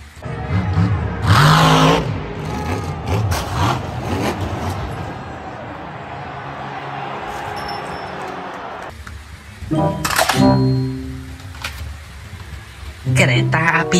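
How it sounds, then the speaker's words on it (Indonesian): A monster truck engine revs in bursts of whining, rising pitch, loud and close, with a sustained drone in between and several sharp surges near the end. "Truk monster."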